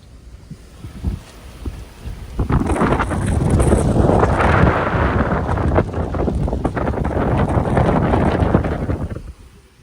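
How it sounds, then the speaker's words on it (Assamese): Strong gusts of storm wind at a fishing pond roar and buffet the microphone, building to a sustained rumbling blast before easing off at the end. "এতিয়া মাছ ধৰা সময়তে এনেকুৱা ধুমুহা বতাহ আহিছে, এয়া চাওকচোন"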